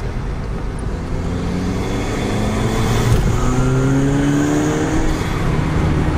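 A Stage 2 tuned VW GTI accelerates at partial throttle in light traffic, its engine a steady, loud drone whose tone climbs gradually through the pull, heard close from inside the car with no talking.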